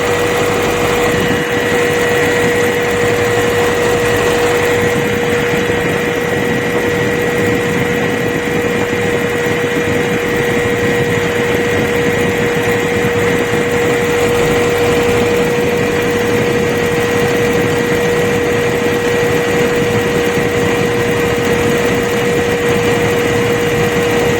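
A Bajaj Pulsar NS200 motorcycle engine idles steadily and close by for the whole stretch, a constant even hum with a high whine riding on top and no speech.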